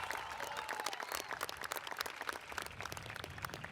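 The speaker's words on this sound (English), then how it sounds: "So please give him a round of applause." A crowd applauds at a Dearborn High School commencement ceremony, dense continuous clapping from many hands, close and lively, with a brief voice at the start.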